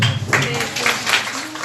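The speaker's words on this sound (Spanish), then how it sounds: "Pido otro aplauso para Johnny." Audience applause at an international neonatal care conference in Bolivia, a steady wash of many hands clapping that holds at an even level through the whole moment, with no voices standing out above it.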